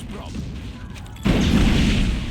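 A heavy explosion bursts out midway through gameplay in the open-world action game Just Cause 3, a sudden loud boom that rolls into a sustained rumble, following a quieter stretch of game sound.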